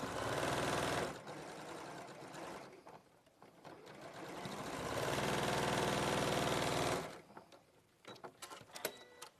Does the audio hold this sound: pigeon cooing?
no